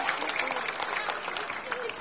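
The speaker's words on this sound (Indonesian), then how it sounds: "tepuk tangan buat Pak Zubat." Audience at an Indonesian political campaign rally in Brebes claps steadily, a dense wash of applause heard up close and continuing throughout the short stretch.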